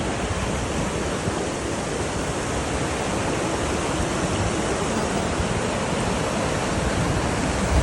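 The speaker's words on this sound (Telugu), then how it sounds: "వాటర్ ఫాల్స్ మొత్తము వాటర్ వస్తున్నాయి" Ganga river waterfall in the Himalayan stretch between Gangotri and Kedarnath, a loud, steady roar of rushing water that fills the whole clip with no voices.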